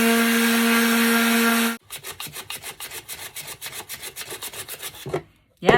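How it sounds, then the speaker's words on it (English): A power sander runs steadily on wood, then shifts to a rhythmic back-and-forth rasp of hand sanding with regular close strokes, ending after a short pause with a final burst. "I'm going to sand this now."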